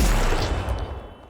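Rapid gunfire blasting enemy orbs in Deadlock, a dense loud burst of shots that fades away within about a second, with no talking.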